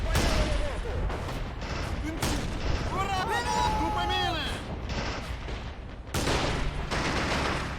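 Anti-tank rifles firing at point-blank range on a tank during a Stalingrad battle in Men of War, sharp repeated shots and booms mixed with battle noise and a voice speaking over it.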